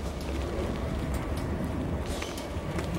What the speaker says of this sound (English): And locomotives are still idling up there.